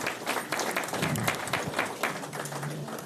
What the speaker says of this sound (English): we applaud Mr. BJ Rewani once more